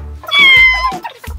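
A cat meows loudly and close by, one drawn-out call followed by a shorter one in quick succession.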